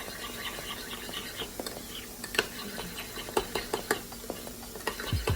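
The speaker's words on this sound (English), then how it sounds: "We're gonna just stir it up." Dynamite sauce stirred in a bowl, soft scraping and swishing strokes with sharper clicks of the utensil against the sides, close and moderately quiet, growing busier toward the end.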